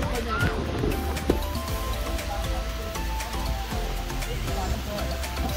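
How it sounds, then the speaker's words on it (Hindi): Heavy rain pours steadily on a mountain trail on the Rohanda to Kamrunag trek in Mandi, Himachal Pradesh, a dense close hiss that stays even throughout with faint voices underneath. "देख ही सकते हैं आप कितनी तेज़ बारिश हो रही है"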